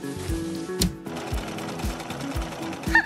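A sewing machine stitches a coat made from yellow curtain fabric, running in quick mechanical bursts with short pauses and rhythmic thumps, close by and without speech.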